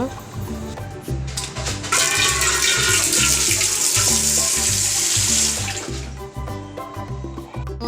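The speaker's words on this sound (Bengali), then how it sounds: "এগুলোকে কেচে নিয়ে স্নান করে নেব" Water runs steadily from a tap at home during clothes washing and bathing, loud and close, with splashing and clattering under it. The flow swells midway and carries on throughout.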